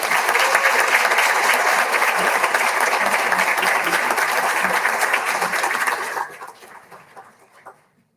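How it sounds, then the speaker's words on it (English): Audience applause at a school board meeting honoring students: steady, full clapping from a room of people for about six seconds, then quickly thinning out to a few scattered claps and fading. "how about another round of applause?"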